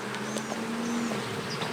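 A wasp buzzes near a solid beehive of a freshly installed bee nucleus colony, a low steady drone running close and continuous with faint higher insect whine over it.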